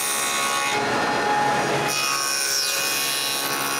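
A table saw fitted with a dado blade cuts through wood pieces, a loud steady grinding whine that shifts in pitch partway through as the cut continues, close and continuous.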